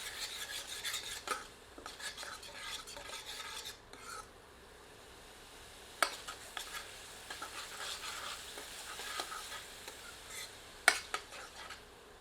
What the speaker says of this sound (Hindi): इसमें आधा टेबल स्पून अदरक लहसुन का मिश्रण सम्मिलित करके पुनः 1 से 2 मिनट भून लेते हैं।